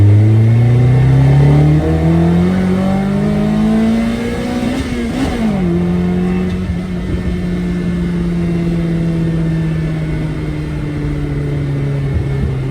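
A Mazda 323 with a VVL engine accelerates hard in second gear, its loud engine note climbing steadily in pitch, briefly dipping around a gear or throttle change, then droning on near and strong from inside the car.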